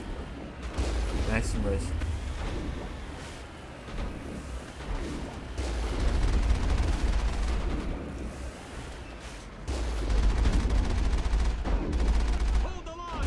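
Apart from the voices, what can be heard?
gunfire in the video game Mass Effect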